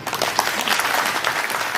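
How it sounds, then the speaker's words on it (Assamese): An audience at a union gathering claps steadily to thank the conductors, a dense, continuous patter of hands filling the space without a break and without talk over it. "তেখেতলোকৰ কাৰণে আমি এটা হাত চাপৰি দিব লাগে"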